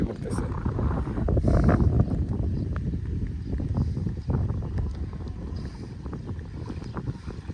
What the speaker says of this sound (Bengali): ফাঁকা বিলের ভিতরে বাতাস এবং প্রচুর পরিমাণ বৃষ্টি পড়তেছে